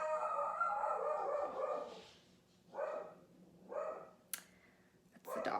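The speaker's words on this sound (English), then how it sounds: "that's the dog." A dog barks a few times at a distance, muffled, between stretches of a person talking nearby.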